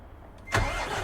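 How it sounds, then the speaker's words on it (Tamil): An Iveco truck engine starting in Euro Truck Simulator 2: a short crank, then the engine catches loudly and settles into a full, rumbling idle. "இன்ஜின் சவுண்ட் நல்லா இருக்கு"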